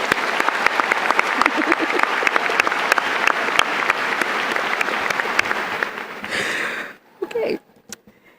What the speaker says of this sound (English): Please join me in giving a round of applause for our principal